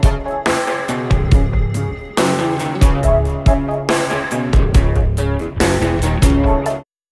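A looped drum part from a mix repeats in bars of punchy kick and snare hits under dense music, stopping abruptly at the end.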